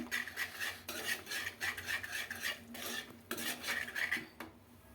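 A spoon scrapes and rubs steadily against a pan in repeated strokes as thick urad dal porridge (ulundankali) is stirred, with short pauses between bursts.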